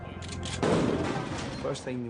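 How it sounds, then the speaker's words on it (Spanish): A loud gunshot blast bursts out inside a Chinese restaurant in San Francisco, followed by a rumbling decay, with a voice briefly audible near the end. "Lo primero que oímos fue un disparo."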